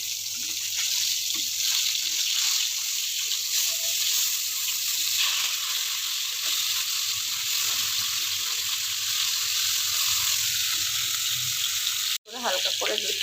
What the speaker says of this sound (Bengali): মাছটাকে আমি উল্টে পাল্টে ভেজে নেবো